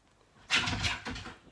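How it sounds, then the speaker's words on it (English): A dog at a house door makes a short burst of scratching or thumping sounds, two close clusters of noise after a quiet start, fairly near and moderately loud. "Oh, that's my dog at the door."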